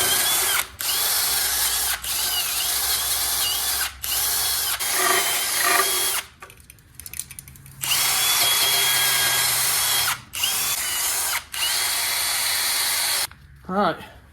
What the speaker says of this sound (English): Want to get your handy dandy drill here and start going to town.